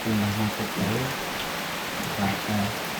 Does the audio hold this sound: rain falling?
yes